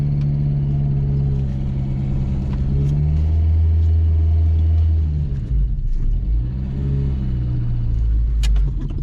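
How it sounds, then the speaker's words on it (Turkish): Renault car engine idling and rumbling steadily while being manoeuvred slowly into a parking space between two lines, a low continuous drone with slight revving shifts partway through, close and fairly loud. "O yüzden şöyle aracımızı iki çizginin arasına sokacağım abi"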